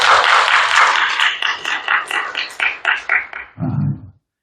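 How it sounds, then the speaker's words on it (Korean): A church congregation applauds, a dense round of clapping that thins into slower, separate claps and stops, followed by a brief low murmur. "점심 수고했는 우리 권사님들께 박수 한번 칩니다."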